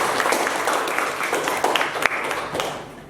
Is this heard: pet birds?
no